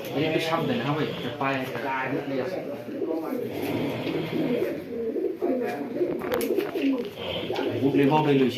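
Racing pigeons at a pigeon race tournament coo in a low, rolling murmur beneath nearly continuous nearby talking, the birds audible throughout as a background layer.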